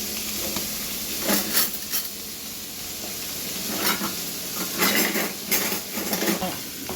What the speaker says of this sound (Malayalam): പിങ്ക് നിറമാവുന്ന വരെ ഒന്ന് നമുക്ക് വഴറ്റാം.